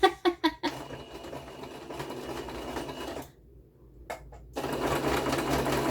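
A sewing machine runs a zigzag stitch, opening with a few sharp clunks, then a steady fast whirring hum that stops briefly and starts again.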